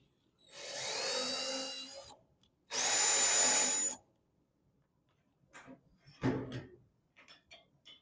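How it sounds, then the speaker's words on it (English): A power drill whirs in two short, strong bursts, each over a second long, drilling a hole in the body of a 1978 Monte Carlo, followed by quiet scraping and a few light knocks. "You drill a hole, run that in there"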